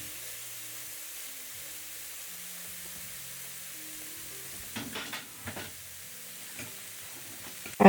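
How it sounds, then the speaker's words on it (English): Ground beef flatbreads brown in a hot pan on medium high heat, giving a faint steady sizzle with a few brief louder scrapes and clinks toward the end, and no talking. "In a hot pan on medium high, I'm going to place these and let them brown and cook for about 5 minutes on each"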